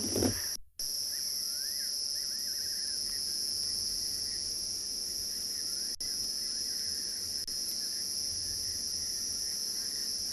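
Steady, shrill insect drone of cicadas and crickets filling the South African bush at night, continuous and loud, with faint distant calls of a fiery-necked nightjar and scops owl underneath.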